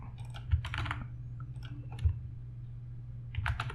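Keys clatter on a computer keyboard while SQL Server queries are typed, with short bursts of clicks separated by pauses, close to the microphone over a steady low hum.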